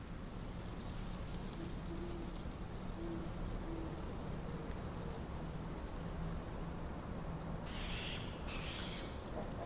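In the Nancy Drew: Midnight in Salem game, an owl hoots in a short repeated series over a constant rain-like ambient hiss, followed by higher eerie tones near the end.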